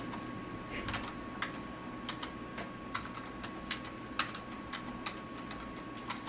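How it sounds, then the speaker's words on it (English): Quick, irregular clicking of fingers typing on a computer keyboard, close and fairly quiet over a steady background hum, with no talking. "Now this is not very pretty because I'm just typing it in quickly."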